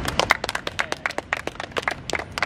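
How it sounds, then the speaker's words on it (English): A small group claps during team announcements for a race, with crisp, close hand claps from a handful of people in an uneven, lively patter. "Please clap."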